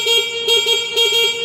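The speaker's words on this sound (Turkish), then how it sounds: "Böyle bir kornamız var." Horn of a V Moto CUX electric motorcycle, a loud, close, reedy electric beep sounded in three short bursts in quick succession.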